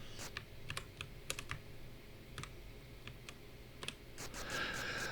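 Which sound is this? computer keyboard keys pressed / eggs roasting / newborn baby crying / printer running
computer keyboard keys pressed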